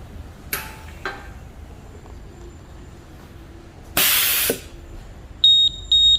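Automatic tire inflator connected to a car tire valve and set to 40 psi: a few soft clicks, a short loud burst of air hiss, then two sharp electronic beeps signalling it is finished.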